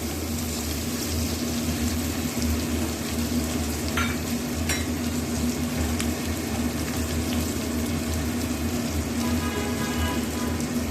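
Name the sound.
onions frying in a pan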